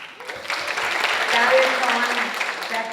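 A crowd applauds graduating high school seniors at a commencement ceremony, steady sustained clapping filling the hall for a few seconds with faint voices underneath.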